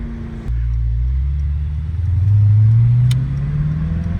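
A 650 hp Mercedes-AMG GT63 S drives through Beverly Hills city streets, its engine a deep steady rumble heard from inside that swells briefly as it pulls harder, then settles.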